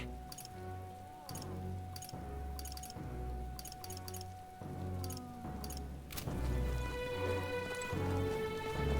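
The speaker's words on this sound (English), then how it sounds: "This is a most foul downpour." Steady rain downpour in the fantasy RPG Metaphor: ReFantazio, a constant wet patter with dripping under a soft game music score, growing denser and louder toward the end.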